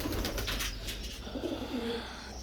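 A pigeon sitting on eggs in a loft gives a soft, low coo, faint and close, in a brief murmuring phrase.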